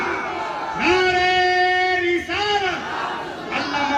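A crowd at a religious gathering roars a sustained chanted response to the Nara-e-Takbeer slogan, loud massed voices holding long notes in two or three surging waves, with a leader's call cutting in between.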